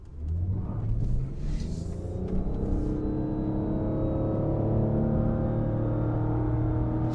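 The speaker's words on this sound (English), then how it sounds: "it felt like the engine got a little bit bogged down there when I started off" A 2022 Lexus RX 450h F Sport hybrid engine hums and rumbles steadily as it accelerates, slightly bogged at the start, pitch slowly climbing, heard from inside the cabin.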